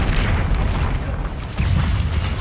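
The Incendio fire spell is cast in Hogwarts Legacy as a loud, dense burst of roaring, booming combat noise that runs continuously through the moment without any talking.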